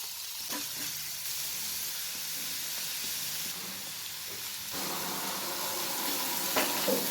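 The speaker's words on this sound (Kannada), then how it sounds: "ಎಣ್ಣೆ ಹಾಕಿದ್ದೀನಿ. ಈಗ ಈರುಳ್ಳಿ ಆ್ಯಡ್ ಮಾಡ್ತಾ ಇದ್ದೀನಿ." Onions sizzling in hot oil in a pan, a steady close hiss and crackle that swells louder partway through, with faint stirring and no voices.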